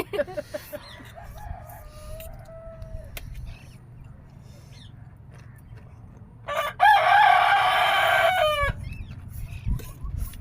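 A rooster crows loudly in a long, drawn-out call near the end, after softer clucking and scattered chicken calls over a low background hum.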